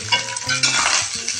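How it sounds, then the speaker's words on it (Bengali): Egg fried rice being stirred and fried in a pan with egg, oil and onion, a steady close sizzle broken by repeated scraping, clattering stirs, with no voices. "ভালো করে নাড়িয়ে ভাজা ভাজা করব।"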